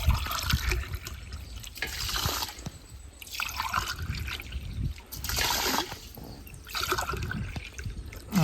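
Water poured from a glass into a pot of rice for Sikkolu-style tamarind rice, a trickling, splashing stream that comes in several separate pours with short pauses between them, heard up close without any talk.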